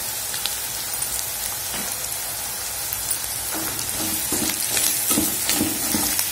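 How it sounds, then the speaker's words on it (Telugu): Chili powder, salt and spices fry and sizzle in a pan over ginger-garlic paste for a bitter gourd curry, a steady close hiss with scraping stirs growing busier toward the end, no voices. "ఇవి వేసుకున్న తర్వాత కొంచెం సేపు ఫ్రై చేయాలండి"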